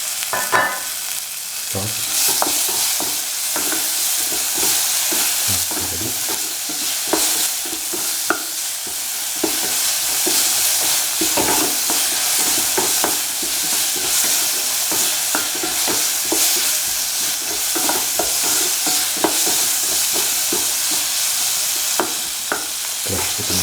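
Tomato pieces fry and sizzle in a pan while a utensil stirs and scrapes through them, a constant loud hiss broken by frequent clicks and scrapes, with a brief spoken word.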